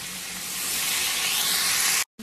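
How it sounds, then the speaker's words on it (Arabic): Meat sizzling in a pot with spices, onion and hot chili for a lamb mandi: a loud, steady broadband hiss of frying that swells slightly, then cuts off abruptly near the end. "أبدي الحين أحمس مع البهارات والبصل والفلفل الحار."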